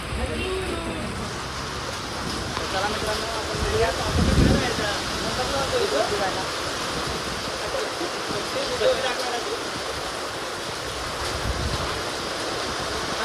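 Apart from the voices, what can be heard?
rain falling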